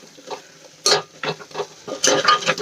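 A spoon scrapes and stirs through onions sautéing in a thick gravy in a pan, producing uneven close scraping strokes and soft sizzling bursts with no voices.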